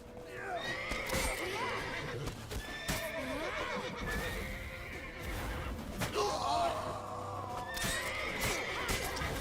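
A horse neighs repeatedly in The Witcher 3, with hooves clip-clopping rhythmically underneath and busy game sounds throughout.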